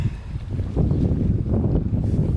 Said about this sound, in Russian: за мысом на открытом берегу ветер дует нещадно